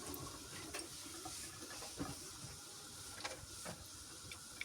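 Potato pancakes (draniki) fry in a pan with a soft, continuous hiss and scattered light crackles, faint and steady throughout.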